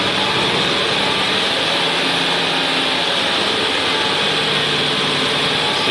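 A Ford Windstar 3.8L V6 with a bad coil pack idles and misfires, giving a steady, close, loud engine drone with a rough, uneven texture throughout.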